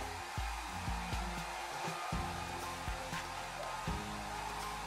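A hair dryer runs steadily while heating and pressing down the sides of a carbon-fibre skin on an iPhone 6, its continuous whir broken by a few low thumps and knocks of handling.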